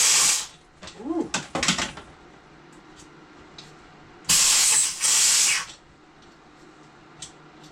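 Air escapes from a cheap old hose on a Craftsman V20 air compressor, in a sharp hiss at the start and a louder sustained burst midway, with a few clicks and handling knocks between them.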